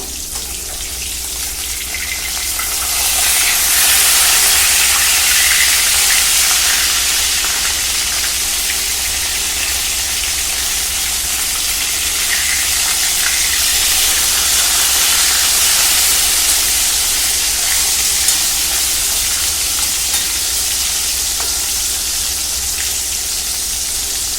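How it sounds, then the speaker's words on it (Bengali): Pieces of rohu fish fry in hot oil in a pan with a steady, loud hiss that swells early and then holds broad and even, with no talking. "এদিকে মাছ প্রায় একদিকটা ভাজা হয়ে গেছে আরেক দিকটা পাল্টে দিব"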